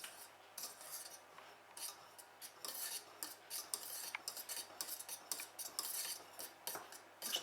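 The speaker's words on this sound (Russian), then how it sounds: "Все, теперь все тщательно перемешиваем аккуратно." A utensil stirs Prague cake batter in a bowl, making a quiet, rapid series of soft scrapes and light clinks against the sides, close but faint, with no voices.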